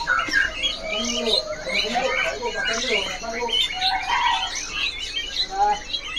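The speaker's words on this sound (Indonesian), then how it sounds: "Murai palangka ini yang ekor panjang ya" A white-rumped shama with a long tail calls in rapid, varied whistles and chirps, close and lively, with other birds squawking around it at a bird market.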